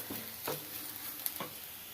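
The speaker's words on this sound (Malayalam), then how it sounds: "മുളക് പൊടി മാത്രം ഇട്ട് വഴറ്റി കേട്ടോ." Fenugreek, turmeric and chili powder sauté in a pan for fish curry, a quiet soft sizzle with a few spoon scrapes and stirs, faint and alone.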